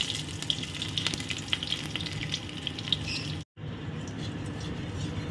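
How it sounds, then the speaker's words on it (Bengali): Nigella seeds and a ripe red chili fry in hot oil in a wok, a steady close sizzle with crackling pops that drops out briefly and then resumes. "অলরেডি কিন্তু কড়াইতে দিয়ে দিয়েছি তেল, আর দিয়ে দিচ্ছি কালো জিরে ফোড়ন"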